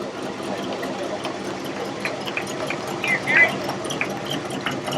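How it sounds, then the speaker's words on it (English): A Ford pickup truck engine runs at a low idle during a small-town homecoming parade, a steady mid-pitched hum beneath crowd chatter and clicking, fairly close and moderately loud. "Next up is Terry Watson, Ford pickup truck."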